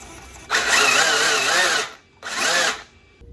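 A brushless RC car motor driven by a Hobbywing Max8 ESC in a Mugen MBX8TE buggy, heard as two close, loud bursts of high-pitched electric whine that rev up and cut off, the first longer than the second.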